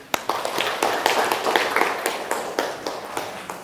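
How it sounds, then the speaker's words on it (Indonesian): A group of students clapping together in a classroom, a quick burst of sharp, irregular claps that carries on steadily for a few seconds at moderate loudness. "marilah kita tepuk semangat untuk diri kita sendiri"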